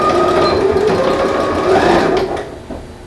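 A sewing machine runs a reinforcing backstitch, a close, steady whirring buzz that stops abruptly near the end and leaves a quiet tail.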